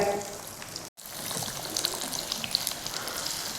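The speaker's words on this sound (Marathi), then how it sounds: "तोपर्यंत आपली घोसावळ्याची भजी तळतायत" Ridge gourd bhaji fritters frying in hot oil with a steady, dense sizzle that runs throughout, briefly cut off once before resuming.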